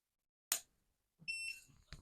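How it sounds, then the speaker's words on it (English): A single sharp electronic beep as a RENPHO RP-FM079R foot massager powers on, followed by a brief higher tone and another short click in a quiet room. "made a small beep sound, as well as the indication has come on"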